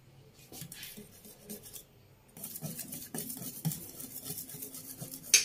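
A spoon stirs cornflour into trifle custard in a pan, scraping and clinking against the metal close by. It is faint and sparse for the first two seconds, then steadier and busier.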